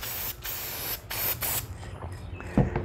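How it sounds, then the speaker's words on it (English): Maxima Fab 1 air filter oil sprayed onto a cotton air filter in several close, hissing aerosol bursts of about half a second each, followed by quieter handling noise. "You don't want to saturate these cotton filters here, but give it a spray on the inside as well."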